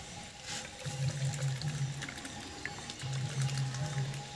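Homemade soybean milk is poured in a soft, low gurgling stream, heard in two distinct pours separated by a brief pause, quiet and close.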